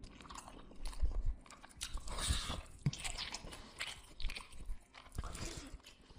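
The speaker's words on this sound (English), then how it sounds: "A low, wet sound. Not mechanical. It was like someone chewing something." Wet chewing and biting, close and moist, with irregular crunchy bites and squelching mouth noises spread across several seconds, no voice.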